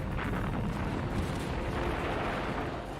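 Heavy artillery and tank gunfire from the 1942 German assault on Stalingrad, a continuous dense rumble of booms and blasts filling the whole stretch with no pauses or voices.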